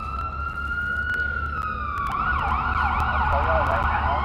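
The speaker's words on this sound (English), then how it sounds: "No, it's an AMR ambulance." An AMR ambulance siren wailing past Cal Anderson Park in Seattle at night, loud and near, its tone sweeping then shifting into a faster yelp pattern over a constant low traffic rumble.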